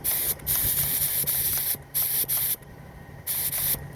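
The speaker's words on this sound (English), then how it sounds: "I'll just spray a little acetone through the gun" A spray gun blows acetone through in several loud hissing bursts, separated by short pauses. A steady rhythmic spray sits close up, with no talking.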